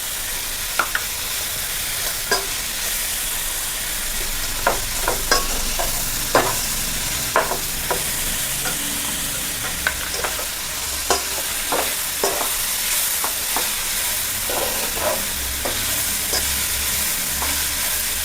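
Carrots are stirred into vegetable noodles frying in a pan, giving a loud, continuous sizzle broken by frequent scraping clicks of the spatula, close by with no talking.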